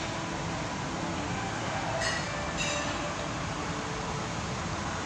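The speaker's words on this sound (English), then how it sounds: "I'll show you some sky trains" An elevated sky train passes by on its track in a steady, broad rumble that fills the whole stretch, with faint wheel squeals and no talk.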